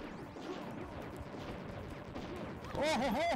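Rapid gunfire from the co-op shooter game Wild Guns Reloaded rattles almost nonstop under mixed game effects and excited talk, with a burst of brighter, tonal game sounds swelling louder near the end.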